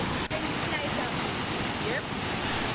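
Steady, dense roar of Victoria Falls (Mosi-oa-Tunya), a mile-and-a-half-wide curtain of falling water with drifting spray, heard as continuous broadband rushing with no breaks and a brief rise at the very end.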